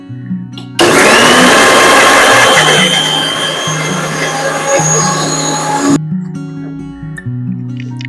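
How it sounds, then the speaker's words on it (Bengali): A mixer grinder blends a neem, aloe vera and turmeric soap mixture, switching on abruptly into a loud, steady whirring roar for about five seconds before cutting off, with a voice talking before and after. "এবার কিন্তু একটা বেটে নেওয়া হবে মিক্সচারের সাহায্যে"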